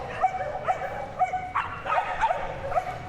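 Excited dogs at a canicross display at Crufts, a run of sharp yips and barks several times a second, mixed with whimpering cries over an indoor hall murmur.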